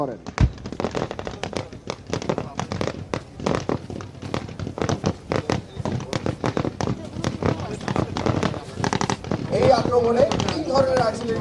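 Rapid artillery and gunfire during a Bangladesh Army field exercise, dense loud bursts of cracks and booms in close succession, near and continuous, with a voice speaking over the firing.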